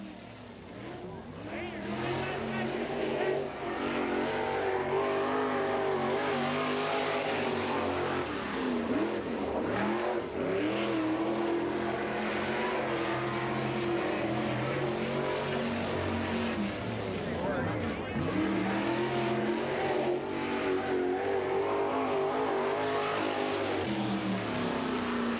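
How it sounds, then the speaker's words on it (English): A Chevrolet-powered sprint car on a qualifying lap at a 1987 World of Outlaws race, Hales Corners, its engine roaring loud and steady with rising and falling revs, while a track announcer talks over it throughout. "Sponsored Allen Chassis, Chevrolet powered Sprinter next to qualify"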